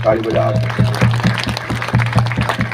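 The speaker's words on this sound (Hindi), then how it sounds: "ताली बजा के प्रभु को धन्यवाद करेंगे।" Rhythmic clapping from a congregation at a prayer meeting, regular beats a little under half a second apart, runs beneath loud amplified music and singing.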